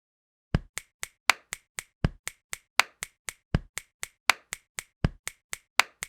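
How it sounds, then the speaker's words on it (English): Hand claps and body percussion in a 12/8 shuffle, a steady rhythmic run of about two dozen crisp, close hits with some accented louder strikes and no talk. "I'm going to sneak in one more sound, a hand clap."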